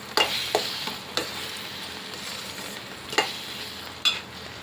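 A motichoor laddu mixture of boondi with cardamom and cashews is stirred by hand, giving soft scraping, rustling strokes with a few sharper clicks of spoon against the vessel, close and fairly quiet with no talking.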